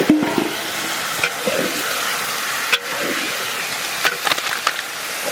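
Marinated chicken pieces hiss and sizzle in hot oil with spiced masala in a wok, stirred with scraping clatters of a spatula; a steady close-up fry with a few sharper knocks against the pan.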